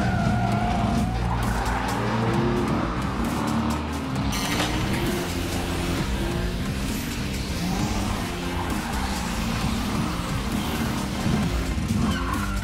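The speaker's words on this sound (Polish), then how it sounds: "Gaz do dechy i dajemy w długą?" A cartoon car floors it with loud, continuous tire skidding and a revving engine, steady and close throughout.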